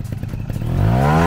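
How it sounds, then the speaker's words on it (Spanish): A TRS Gol trial motorcycle fitted with a performance kit revs up hard, its engine note climbing steadily in pitch and loudness after a short idle-like clatter, close and alone without talk. "voy a abrir gas y ya vamos a ver qué tal sube"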